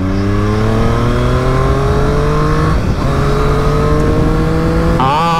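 Triumph Street Triple RS or Kawasaki Ninja 1000 motorcycle ridden hard, a loud, close, steady engine drone rising in pitch through a gear, a brief dip near the middle, then a sharp shift near the end, with no talking.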